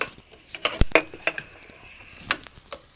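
Aromatics being sautéed in a pan over a strong flame while cooking sopas, with sharp stirring clatters and scrapes of a utensil over a light sizzle, close and fairly loud, no talk.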